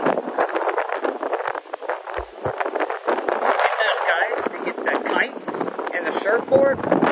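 Strong wind blowing over the Maspalomas sand dunes, buffeting the microphone with a constant rumbling roar while a person talks throughout.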